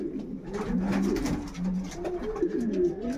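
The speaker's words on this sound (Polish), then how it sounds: "po 2 dniach w gołębniku samiczki tutaj te młode już sobie zajmują, poznajdowały samce" Domestic pigeons cooing in a loft, several soft rolling coos overlapping continuously and close by, with no talking.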